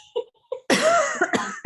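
A single person coughs during an online real estate meeting, a few small throat sounds followed by a harsh burst and two or three shorter coughs, close to the microphone.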